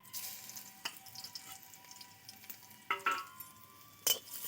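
A halved dried chilli and garlic paste hit well-heated oil for a fish-head and Malabar spinach curry. A faint, low frying hiss plays throughout, with occasional sharp spatters and clicks.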